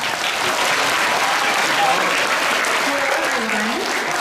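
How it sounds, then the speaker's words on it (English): A school audience applauds steadily and densely at a ceremony honoring veterans, the clapping loud and close throughout with faint voices murmuring underneath. "Let's give her a nice round of applause."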